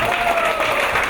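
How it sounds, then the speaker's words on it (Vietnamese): Brief steady applause from the audience at a flower-arranging workshop in Dalat, a short dense patter of clapping, with a faint tone running underneath. "Xin các bạn cho một tràng pháo tay nữa ạ."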